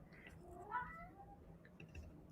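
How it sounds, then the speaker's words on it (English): A house cat meows in the room, a soft, brief mewing call that rises and falls once or twice against a quiet background. "Can you hear my cat?"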